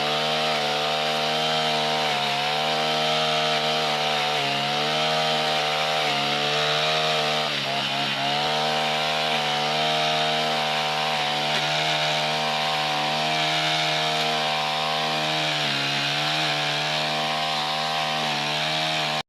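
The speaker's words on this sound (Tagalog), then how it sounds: "Kaya nga po ngayon ay uumpisahan ko na mag-grass cutter" A gasoline grass cutter, long unused, runs loud and steady for the whole stretch, its engine buzzing with small dips in revs as it works, no talking.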